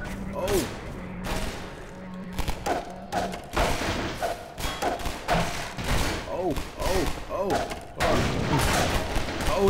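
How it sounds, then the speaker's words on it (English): Bursts of gunfire and heavy thuds from Half-Life 2 come in uneven volleys through the whole stretch, loud and close, with someone talking at times over the shooting. "Oh, they're still shooting."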